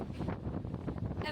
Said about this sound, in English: I'm so sorry about all the wind.